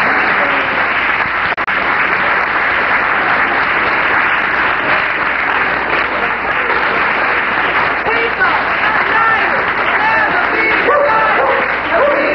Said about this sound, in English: all the good people here deserve a good hand of applause.